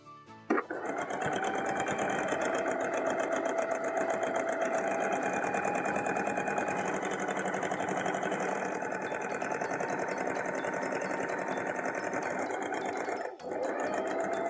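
A sewing machine runs without pause as it stitches the hem of a Simplicity 9041 dress, a steady mechanical whir with fast needle ticking throughout, close and alone.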